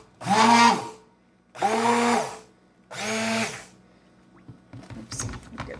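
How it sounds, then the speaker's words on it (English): Immersion stick blender pulsing a goat milk soap batter in three loud whirring bursts of about a second each, separated by short pauses, followed by faint clatter and handling. "so I'm going to use my immersion blender"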